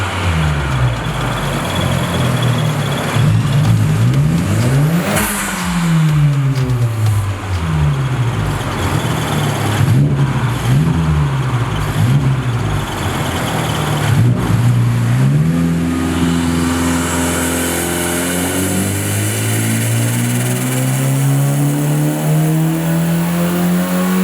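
A tuned Honda Civic Type R with Hondata tuning and bolt-on parts revs on a dyno, the engine rising and falling through several sharp revs before climbing into a long, loud, sustained pull.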